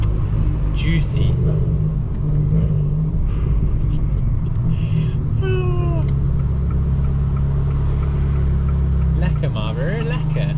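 An Abarth 595 Turismo hatchback engine and exhaust rumble steadily and loudly from inside the car while driving, with a deep, constant drone throughout and a few higher squeaks and chirps over it.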